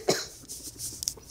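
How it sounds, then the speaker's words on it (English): A single short, close cough with a rough burst, followed by faint breathing and small throat sounds. "Dang, I had the cough today."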